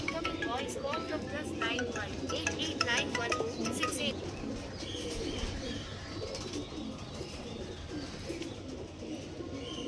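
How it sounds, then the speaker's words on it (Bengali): Andra Star Kalanka pigeons coo repeatedly in a soft, continuous murmur, with chirps and a person talking over them nearby. "পায়রা দেখো"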